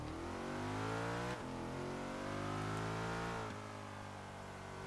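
A car engine revs hard in Forza Horizon 3, loud and close, with rising harmonic whine climbing through gear changes, two sharp drops where it shifts, then pulling up again steadily throughout.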